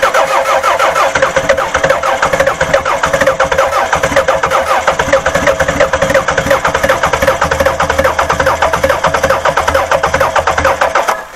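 A Toyota 4S-FE car engine with one spark plug wire pulled cranks and runs, its loud, steady engine noise filling the whole span with a rough, uneven pulse.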